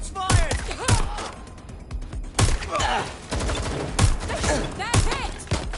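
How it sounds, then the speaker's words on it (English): Gunfire from the video game Watch Dogs Legion crackles in bursts of rapid shots, loud and close, with voices calling out between the volleys. "Shots fired!"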